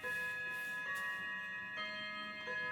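An indoor clock chimes three o'clock, its steady ringing tones sustained and overlapping, with faint ticking and room noise beneath.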